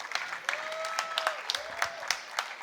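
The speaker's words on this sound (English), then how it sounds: "Students, keep on applauding as I call out the names." Students at a university convocation keep up a moderate round of applause with distinct individual claps, while a faint voice is heard briefly beneath it.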